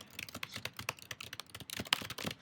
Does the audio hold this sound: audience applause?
no